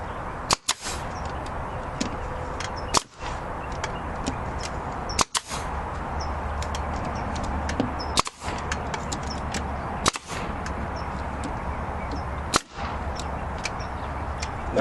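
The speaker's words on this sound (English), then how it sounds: "So what I'm going to do is I'm going to staple it to that piece." A staple gun fires into aluminum skin over a wooden frame on a 1969 Landmark, six sharp snapping shots spaced a few seconds apart over a steady background hum.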